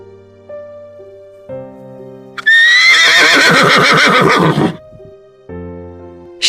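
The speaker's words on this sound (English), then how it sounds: "Horse." A horse gives one loud, close, shaky neigh lasting about two seconds between passages of soft background music.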